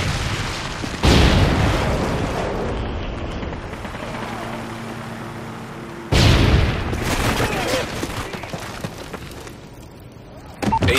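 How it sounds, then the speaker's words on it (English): Predator missile strikes from a military shooter video game land as two heavy booming explosions, each followed by a long rumbling decay with crackling debris, the second arriving about five seconds after the first. "Friendly Predator missile inbound."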